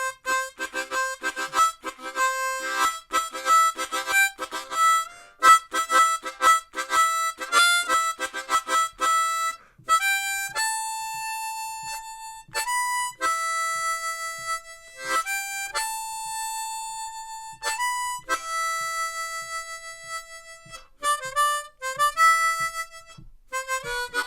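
A harmonica in C plays a melody alone, with clear single notes and chords in a bright, rhythmic melody and no talking over it.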